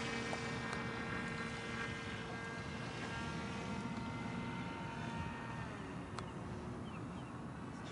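A small drone's electric motors whine steadily as it comes in to land, a faint constant buzzing hum with light wind noise, fairly distant and alone.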